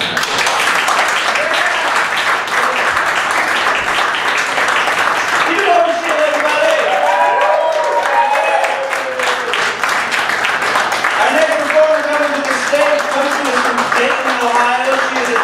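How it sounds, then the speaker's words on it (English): Sustained applause and clapping from a standup comedy audience, loud and dense throughout with cheering tones rising partway through. "Donni Cryer, everybody, clap for her."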